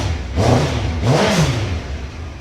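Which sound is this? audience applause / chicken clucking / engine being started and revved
engine being started and revved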